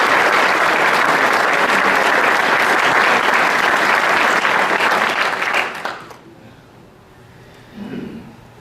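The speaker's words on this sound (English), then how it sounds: "Let's give all of our committees a round of applause." Audience at an annual meeting claps loudly for several seconds before the applause fades into near quiet, followed by a brief faint sound.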